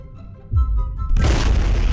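A deep, booming video game bomb explosion in Garry's Mod bursts in after a short lull, followed by sustained rumbling, crackling noise that stays loud to the end.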